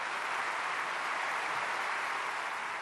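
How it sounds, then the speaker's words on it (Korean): A church prayer-meeting audience claps to welcome a guest speaker, a dense, even wash of applause that stays loud and constant throughout with no talking. "우리 양창석 박사님 박수로 환영하겠습니다"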